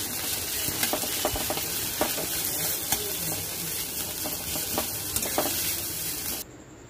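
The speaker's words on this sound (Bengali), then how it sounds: "তেলটা গরম হয়ে গেলে প্রথমে পেঁয়াজটা ভেজে নিতে হবে।" Chopped onions fry in hot oil in a wok with a dense, continuous sizzle, broken by scattered crackles and stirring scrapes, before dropping away near the end.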